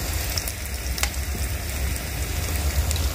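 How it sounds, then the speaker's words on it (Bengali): Onions fry in oil on a clay stove, giving a continuous close, loud crackling sizzle with occasional sharper pops throughout. "একটু লাল লাল করে ভাজবো"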